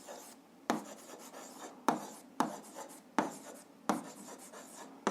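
Pen writing on paper while an algebra exercise is worked out, quiet close scratchy strokes broken by several sharp taps as the pen sets down, in an otherwise silent room.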